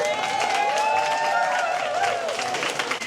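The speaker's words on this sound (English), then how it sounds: "A big round of applause, please, for our chooser." An audience applauds a blind-date comedy show's chooser, a sustained round of clapping from a crowd with a few whoops, moderately loud and continuous throughout.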